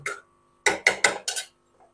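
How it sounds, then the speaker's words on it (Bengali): A thick ground lentil paste is dropped in dollops onto boiled papaya in a pan, making four soft, close wet plops and scrapes in quick succession, with no talk and faint clinks at the end. "এর মধ্যে এবারে আমি বেটে রাখা ডালটা দিয়ে দেব।"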